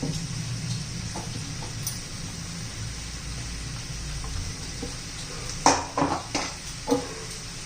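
A spoon stirs chopped capsicum and coarsely crushed peanuts in a pan over medium heat, soft frying sizzle under a few sharp utensil scrapes and clinks near the end.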